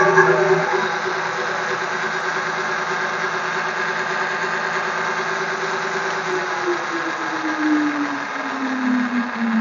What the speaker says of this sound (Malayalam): ഇത് കൊടുത്തു കഴിഞ്ഞാൽ നമുക്ക് മോട്ടർ ആണ്